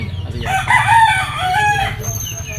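A backyard gamefowl rooster of the NUDC line crows once, a loud close call with a drawn-out wavering middle, over a low background hum.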